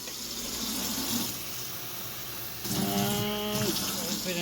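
One and a half cups of water pour steadily into a chicken marinade, a continuous close splashing rush that grows louder partway through, with a brief voice over it.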